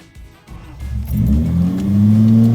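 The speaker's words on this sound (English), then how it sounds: "Let's see if the car starts and gets us back home without, you know, blowing up." A Datsun 280Z engine cranks and catches, then revs up and settles into a steady, loud hum close by.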